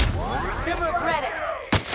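Gunfire in The Outer Worlds: one loud blast opens, followed by a ringing, whooshing tail with a voice beneath. A second sharp shot cracks near the end.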